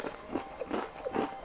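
Crunchy Lebanese fattoush salad with crispy bread pieces is chewed close to the mic, giving about four soft, crackly bites in quick succession with no talking.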